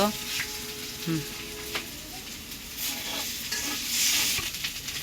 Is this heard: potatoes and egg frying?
yes